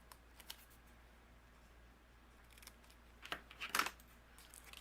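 A few quick, crisp scissor snips near the end, cutting a fishtail into a paper strip, with soft rustling before them in a quiet room.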